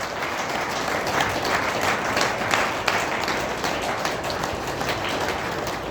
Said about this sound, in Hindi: इनके आने की खुशी में एक बार ताली से स्वागत कर दीजिए महाराज जी का